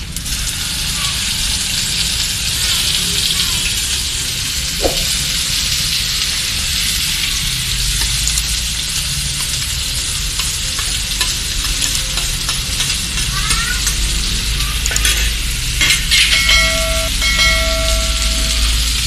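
Okra tossed into hot oil with garlic and turmeric for a dry Gujarati bhindi dish, giving a loud, steady sizzle that runs the whole way through with a few light clinks.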